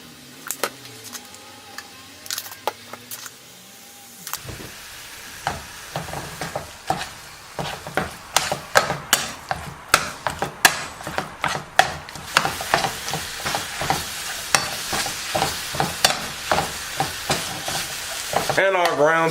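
Ground turkey fries in a pan with oil, onion powder and garlic powder, a steady sizzle under repeated sharp scraping knocks from stirring that grow busier and louder after a quieter start.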